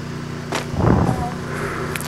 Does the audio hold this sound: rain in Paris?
no